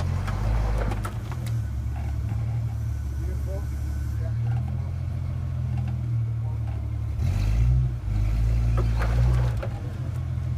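A Toyota engine drones steadily as the vehicle climbs an articulation ramp, with a low rumbling hum throughout and a brief surge near the end, no clear separate skid sound standing out.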